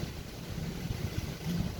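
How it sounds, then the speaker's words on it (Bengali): Steady, heavy cyclone wind roaring and buffeting the microphone, with a low rumbling undertone throughout and no voices. "ঝড় বাতাস করছে দ্রুত"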